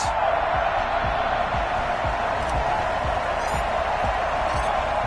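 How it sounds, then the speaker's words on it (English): Crowd noise filling NRG Stadium in Houston before a Cleveland Browns vs Houston Texans NFL game, a constant loud roar with a faint rhythmic thumping underneath. "this crowd is ready as their guys get set to match up between the Cleveland Browns and the Houston Texans"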